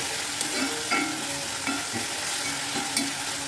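Spices and onion sautéing in a pan for sardine curry, a steady close sizzle with soft scraping stirs recurring through the whole stretch, no talking.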